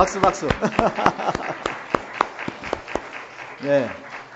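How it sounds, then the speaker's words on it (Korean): A church congregation claps in a short burst of applause, sharp claps mixed with a speaking voice, ending as a voice carries on. "박수."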